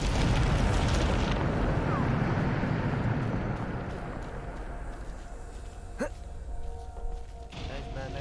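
A Bombarda explosion spell cast in Hogwarts Legacy: a loud, broad rumbling blast that fills the opening seconds and slowly fades into a lingering roar, followed by a short sweeping whoosh and quieter effects.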